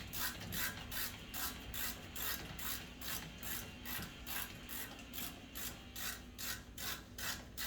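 A ratchet wrench tightening bolts on the front brakes of a Kia Sportage AWD EX, making a rapid, regular clicking in repeated bursts close to the listener, quiet and with no voices.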